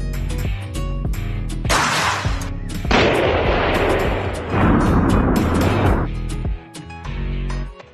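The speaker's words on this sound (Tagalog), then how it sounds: "Drop test. Gunshot. O gun test." Gun test on an NHK GPR-Tech racing helmet: loud, heavy blasts of gunfire crack and boom close by, several bursts in a row over a sustained background rumble, with no voices.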